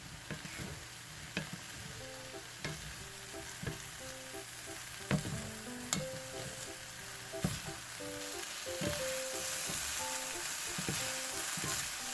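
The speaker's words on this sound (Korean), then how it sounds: "간장 두 스푼을 넣고 보글보글 끓여준 다음에 전체적으로 섞어주시면 돼요" Soy sauce boiling and sizzling in a hot pan beside stir-fried eggplant, a steady loud frying hiss with bubbling and occasional sharp utensil clicks as it is stirred.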